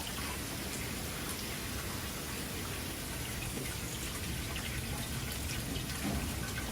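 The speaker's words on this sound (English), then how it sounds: "There's just always boiling water." Steady, dense bubbling and hissing of water at a rolling boil in a humid soba noodle kitchen, continuous and close, with no voices.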